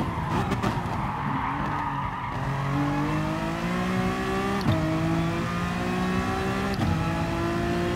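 Race cars including a Nissan GTR roar through a racing video game, engines droning steadily with rising pitch as they rev through gears, broken by brief shifts and tire skids, continuous and close with no talk.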